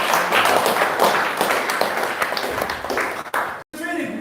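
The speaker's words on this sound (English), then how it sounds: "Let's give them a round of applause." Close, steady audience applause with dense clapping and tapping fills most of the moment, thinning toward the end with a brief drop-out.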